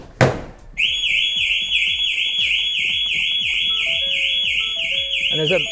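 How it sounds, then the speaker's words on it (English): A loud thump, then the alarm of a 2024 Ford Transit Custom van starts blaring a continuous warbling electronic tone, with chirps and beeps layered over it nearby. "I'm going to expect the alarm to go off"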